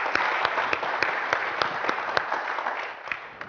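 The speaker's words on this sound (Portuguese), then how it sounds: "vamos aplaudir o nosso embaixador da paz" A seated audience at a religious gathering applauds for an honored guest, producing steady, moderately loud clapping with a few sharp individual claps standing out before it slowly fades at the end.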